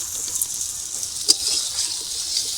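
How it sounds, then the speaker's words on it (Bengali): Water poured into a pan of spiced potato curry (aloo dum) cooking with cumin, ginger and chilli paste in a village kitchen, a steady rushing splash with one brief louder slosh, no talking. "এবার জল দিয়ে দেবো"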